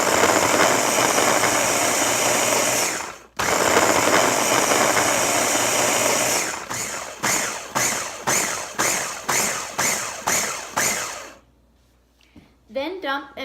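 A blender works cold unsalted butter into dry ingredients with a loud, steady whir, then runs in a string of short rhythmic pulses before stopping, and brief talk follows at the end.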